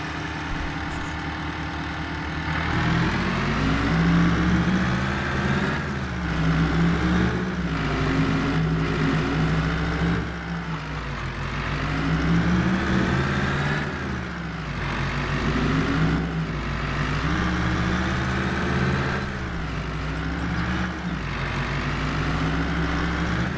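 The TLX 3500 in Farming Simulator 22 runs with a steady engine drone, its pitch rising and dipping repeatedly as it revs and settles, loud and continuous with no talk over it.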